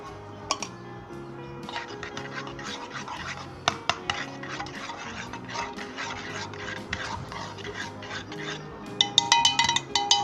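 A spoon scrapes and ticks against a bowl while mixing sugar into homemade custard, giving close, irregular scratchy strokes over a steady tonal background, with quicker, louder scraping at the end.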